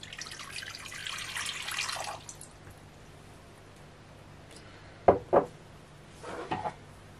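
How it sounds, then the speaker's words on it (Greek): Water pours into a mixing bowl in a home kitchen, a steady running stream for about two seconds, then a quiet gap and a few short splashy bursts near the end. "Σε ένα μπολ θα βάλουμε 200 γραμμάρια νερό"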